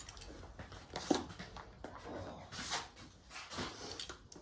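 A dog nearby during a room fitting of herringbone LVT flooring, giving soft whimpers and faint yips amid shuffling and background clatter, with no speech.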